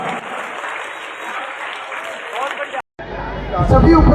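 An audience at a stage event claps to welcome children after their performance, steady broadband applause mixed with crowd chatter and voices, broken by a brief cutout before a louder, closer burst resumes.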